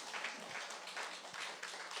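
A church congregation clapping for one of its members during a Sunday service, faint, dense applause that continues steadily for a couple of seconds.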